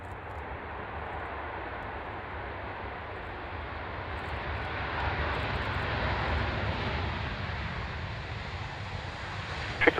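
A fixed-wing aircraft comes in to land at Fairford, its steady broadband engine roar holding for the whole stretch and swelling slightly midway, with no voices.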